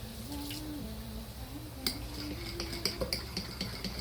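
A spoon stirs milk into a cup of coffee flavored with syrup, first a soft swishing and then a run of bright metallic clinks against the cup near the end.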